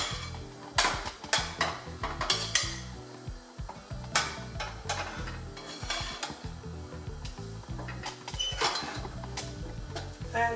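A spoon stirs vegetables into Nigerian jollof rice in a pot, giving repeated scraping and clinking strokes at an uneven rhythm over a soft sizzle.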